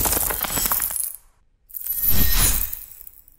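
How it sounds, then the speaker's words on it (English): Layered magical ice effect for a blade: a crackling, glassy freezing texture followed after a short gap by a swelling resonant shimmer that peaks and fades, loud and with no talking. "We need a cool freezing sound effect, as well as the sound of the blade magically resonating."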